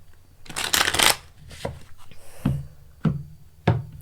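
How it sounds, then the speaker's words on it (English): Tarot cards being shuffled by hand in a psychic reading: a dense burst of riffling near the start, then three sharp separate card taps or bridges, close and fairly loud, with no talking. "All right, we're shuffled up."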